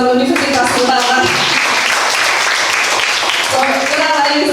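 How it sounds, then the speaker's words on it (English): An audience at an academic exchange session breaks into applause, a dense burst of clapping that carries on steadily under a speaker's amplified voice. "So big applause for Universitas Ngurah Rai."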